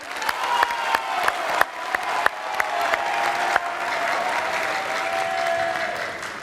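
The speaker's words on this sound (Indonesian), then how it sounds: "Boleh tepuk tangan yang meriah?" Audience at a televised presidential election debate bursts into sustained applause, dense clapping with a few sharp louder claps standing out early, steady and full throughout with no talking.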